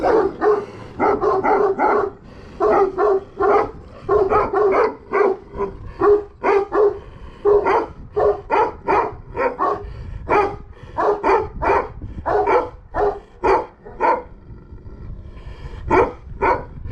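Loud, close dogs barking repeatedly in uneven bursts, several voices overlapping with short pauses between volleys.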